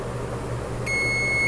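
A multimeter in continuity mode testing a small speaker: a sudden steady electronic beep starts partway through and holds, clear and close over a low background hum.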